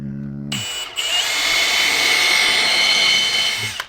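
A power drill countersinks screws into the wood of a 48-inch DIY sawhorse, running as a loud, steady whine for about three seconds after a brief moment of talk.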